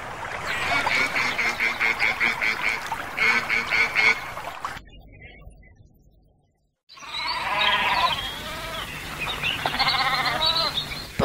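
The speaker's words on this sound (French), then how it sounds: "Bonjour, je suis la chèvre." Farm goat bleating, several wavering calls in quick succession, then a short quiet gap before more bleats resume, close and fairly loud with no speech.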